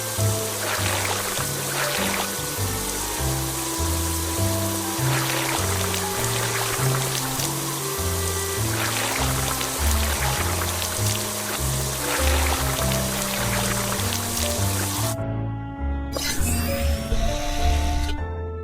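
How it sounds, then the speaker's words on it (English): Cartoon water sprayer rinsing mud off a bus in a children's car-wash video game, a steady hissing spray running for most of the clip under bouncy game music, then briefly giving way to a chime. "drag the water sprayer to rinse off the mud"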